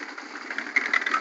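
Concrete mixer machine engine running in Hasanpur, a steady mid-pitched mechanical drone with rapid knocking pulses, fairly close and continuous over a brief stretch with no voices.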